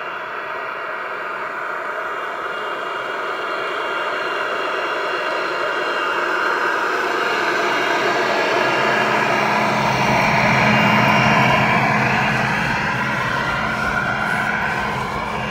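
A G scale model train pulled by Dash 9 locomotives descends a horseshoe curve on a mountain layout, a steady rumbling drone that swells and grows closer toward the end, with no voices.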